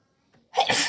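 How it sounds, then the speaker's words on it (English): A single sharp human sneeze, preceded by a brief faint intake of breath and then a loud, close burst of sound. "I'm gonna sneeze."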